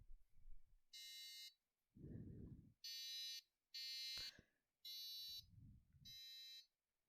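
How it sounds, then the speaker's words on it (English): A Micro:bit-controlled small robot car sounds its buzzer when triggered by an IR remote, giving a series of five short, shrill electronic beeps at an even rhythm, interspersed with faint low handling noises. "when I click a beep button"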